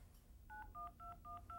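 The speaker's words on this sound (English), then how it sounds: "one of the things you can do with that speaker is you can dial people's phone numbers automatically" A portable computer's speaker auto-dialing a phone number, playing five short touch-tone beeps in quick even succession over a low background hum, clear and close.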